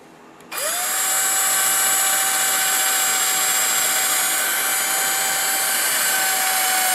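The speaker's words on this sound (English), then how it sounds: "Okay, so I drill that out so I have a nice big hole here." Power drill with a dull 3/16 bit boring out a headlight bulb hole on a 1/14 Tamiya Grand Hauler rollback truck model, spinning up suddenly to a steady high-pitched whine that holds without pause, no talk.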